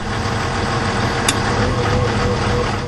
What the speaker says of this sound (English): The tractor uses diesel fuel, then adds in hydrogen when you flip a switch.